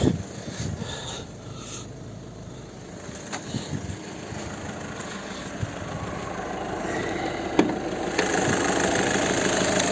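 The 2.0 TDI 140 hp diesel engine of a 2012 VW Touran idles steadily with a low, rumbling, slightly knocking chug, close up and continuous, with a few clicks and knocks.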